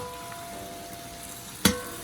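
Hot boiling water poured into a pot of Jamaican brown stew chicken, a low steady sizzle with a faint tone, then one sharp loud burst of splashing sizzle near the end.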